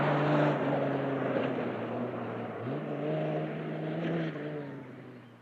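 A Ford Cortina rally car runs in a 1979 long-distance reliability trial, its engine note rising and shifting through gears as it drives past, loud and near, then fading slightly toward the end.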